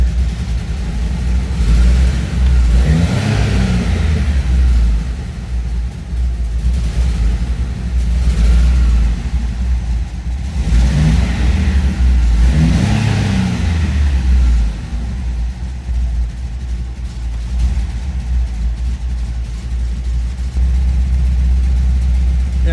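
A Bumblebee car's engine runs steadily at low choke, a loud continuous rumble swelling into a few distinct revs before settling back to idle.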